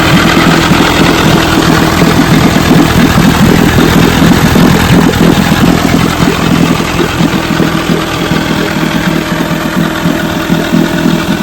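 A vintage Evinrude or Johnson outboard motor runs steadily at close range, a loud continuous throbbing idle with a constant mechanical drone and no voices.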